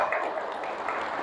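An audience at a company directors' workshop on Jaeun-do island breaks into steady clapping, a soft, dense patter that stays even and fairly quiet from start to finish.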